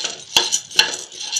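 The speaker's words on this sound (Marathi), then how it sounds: "आता ही डाळ पण आपल्याला अशीच भाजून घ्यायची, अगदी हलकी भाजून घ्यायची" Dal being lightly roasted over medium gas and stirred in a pan for Marathi khamag chivda; a spoon gives two sharp scrapes against the pan over a soft, steady sizzle, close and alone.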